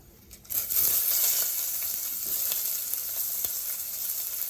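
Chopped onion drops into hot oil with cumin and red chilli, bursting into a loud hissing sizzle that holds steady with faint crackles.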